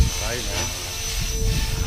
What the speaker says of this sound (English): I'd say that tail is holding on Matt's helicopter